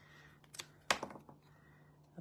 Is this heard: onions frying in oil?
no